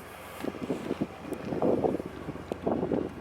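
A Ford Fusion Sport with an MRT V2 exhaust idles quietly, a low, soft, uneven grumble under steady wind buffeting on the microphone.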